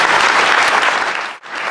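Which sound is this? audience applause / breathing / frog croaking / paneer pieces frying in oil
audience applause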